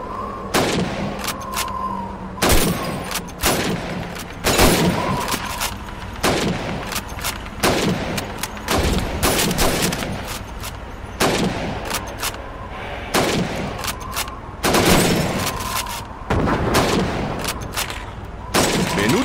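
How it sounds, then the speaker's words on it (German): Rifle shots ring out on a Red Army shooting range aimed at bottles and plates in Call of Duty 2, a long series of loud single cracks spaced a second or two apart, with no talk. "Schießen Sie auf die Flaschen und Teller."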